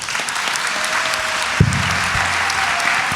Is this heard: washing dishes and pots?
no